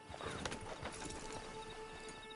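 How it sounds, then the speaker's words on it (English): Hooves clip-clop steadily from a horse in the Red Dead video game, heard alongside faint whinnying against a dense, continuous ambient game backdrop, with no one talking. "Just get on the horse when you're good and ready"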